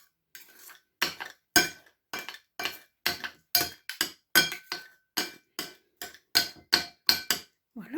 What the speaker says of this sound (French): je vais donner un petit coup de couteau pour défaire les lanières d'aubergines